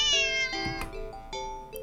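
A cat lets out a sharp, loud meow up close, a single drawn-out cry with bright tonal harmonics, followed by a few shorter bursts of vocal sound.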